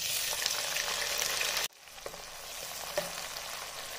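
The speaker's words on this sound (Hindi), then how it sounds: "टमाटर वगैरह का भून लेंगे इसको" Tomatoes and onions fry in a pan for chicken pulao, giving a loud sizzle that suddenly drops quieter partway, then continues as softer frying with a few stirring clicks.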